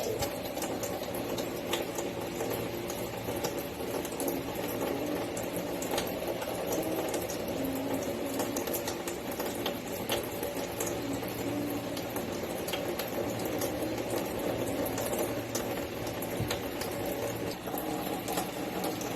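Tap water runs steadily from a faucet during handwashing, a constant hissing, splashing stream that stays close and even throughout with no voices over it.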